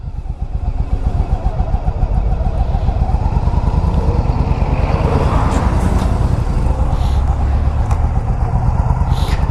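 A 2007 Yamaha V Star 1100, a carbureted cruiser motorcycle, rumbles loudly and continuously on a test drive, its engine throbbing steadily up close with road and wind noise.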